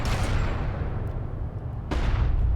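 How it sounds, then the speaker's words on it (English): Turret in a Homeworld: Deserts of Kharak battle blasts away at LAV vehicles, sustained loud booming fire rolling continuously with a fresh burst near the end. "you can see these LAVs just getting murdered by this turret now"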